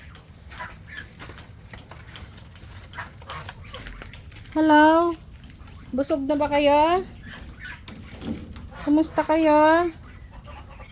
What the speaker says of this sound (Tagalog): Eto mga bibe, busy sa pagkain ng damo.